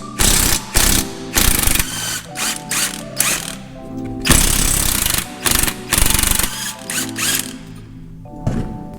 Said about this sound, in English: we're just going to go ahead and remove these 2 bolts. They are 19mm bolts with 19mm nuts.